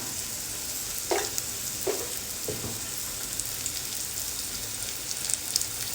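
Vegetables fry in a pan until softening, a steady bright sizzle running throughout with three soft stirring scrapes early on; no voices.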